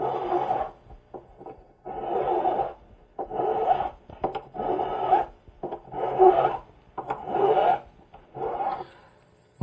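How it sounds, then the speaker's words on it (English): A metal file rasping across a ring shank at a jewelry bench, repeated back-and-forth strokes in an even rhythm with short pauses between them, close and fairly quiet. "When I'm filing this, I have my ring sideways so I can see the edge of the shank so I don't overfile it."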